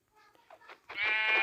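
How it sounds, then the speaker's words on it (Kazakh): Sheep in the video game Minecraft bleat in a series of short, wavering cries, starting faintly and then swelling into a louder, sustained bleat near the end. "Мұнда 2 қой бар екен."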